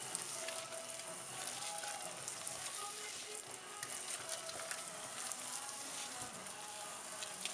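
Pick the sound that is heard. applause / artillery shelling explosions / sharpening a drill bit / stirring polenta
stirring polenta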